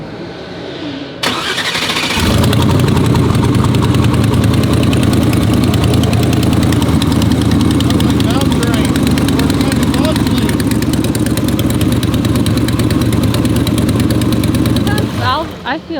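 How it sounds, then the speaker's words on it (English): A car engine at a Streetcar Takeover drag racing event starts up and then idles loudly and steadily for a long stretch with a rough, ticking valve train or exhaust leak character, ending abruptly. "It's almost like valve train or exhaust leak."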